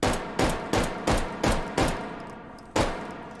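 An automatic Russian Second World War pistol fires in the VR shooter H3VR, six evenly spaced loud shots in quick rhythm, a pause, then one more, each ringing out with a sharp crack and decaying tail.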